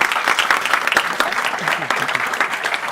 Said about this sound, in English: So could we give a welcoming round of applause to the walk up to stage for our panelists,